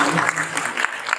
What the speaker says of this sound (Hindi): भाई साहब के लिए एक बार ताली बजाइए